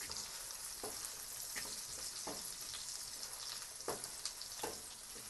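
Tadka spices fry in butter for daal, giving a continuous bright sizzle and crackle with a few soft stirring scrapes, close and steady.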